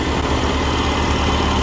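A tractor engine runs steadily at 2100 rpm, driving a rotavator through the 750 rpm PTO in a field, a loud, even low diesel drone with no talk.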